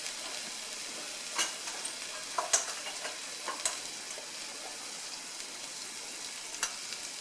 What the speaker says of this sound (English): with the tomato paste, I'm going to add in our spices